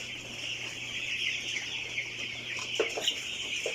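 One-week-old broiler chickens cluck and peep steadily on a farm, a dense chorus of chirps with a low hum beneath and a few louder calls near the end.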